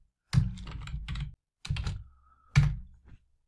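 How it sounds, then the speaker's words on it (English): Bursts of rapid keystrokes on a computer keyboard as random letters are typed, three separate clusters of close, clicky taps with short pauses between them. "So I'm just typing some random alphabets and strings"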